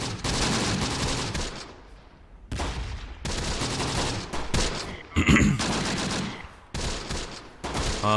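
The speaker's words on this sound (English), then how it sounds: "Still lighting them up with mortars." Mortars and gunfire boom in the tactical war game Close Combat: The Bloody First, repeated loud blasts and rattling volleys in close succession with brief lulls between bursts.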